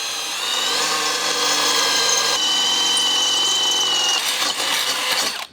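A Bosch Professional drill runs at its second speed: a loud, close, continuous motor whine with layered harmonic tones that holds steady for about five seconds, then cuts off abruptly.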